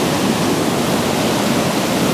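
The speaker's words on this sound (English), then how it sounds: "Newhalen River." The Newhalen River near Iliamna runs high after record snowfall and warm weather, giving a steady, close, full-bodied rushing roar that never lets up, with no voices over it.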